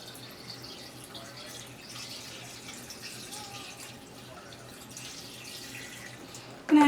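Water poured into a container while making homemade probiotic soda, a soft continuous trickle and splash at low level with faint background noise, ending in a brief louder knock.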